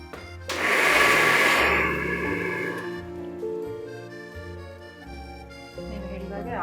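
A mixer grinder whirs loudly into a short burst of blending cooked mango, then winds down and fades, leaving a low hum and faint voices.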